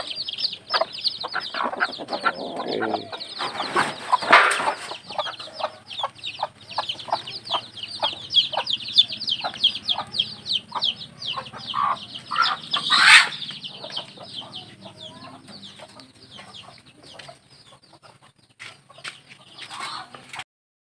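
Chickens cluck continuously in a busy flock, short repeated calls overlapping close by, with occasional louder squawks and bursts of wing flapping.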